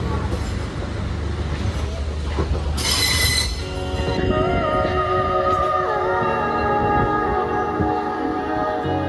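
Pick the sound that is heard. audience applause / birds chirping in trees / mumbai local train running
mumbai local train running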